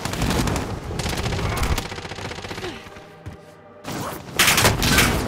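Rapid bursts of automatic gunfire in a Call of Duty Warzone Resurgence match on Rebirth Island, loud and close, with dense volleys, a brief lull near the middle, then renewed heavy firing.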